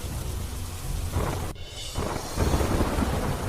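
Heavy rain pours steadily in a broad hiss, with a sharp thunder crack near the middle followed by a deep rumbling roll.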